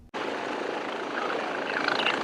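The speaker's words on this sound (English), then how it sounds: "When seconds matter, air ambulances swoop in from above." Steady, loud rotor and engine roar of an air ambulance helicopter overhead, broadband and continuous, with no voices.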